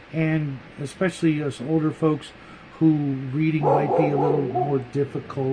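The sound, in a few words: dog barking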